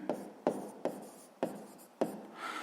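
A pen writes on paper during a sixth-grade maths exercise, heard up close as short, scratchy strokes with distinct taps at the starts, about five in quick succession.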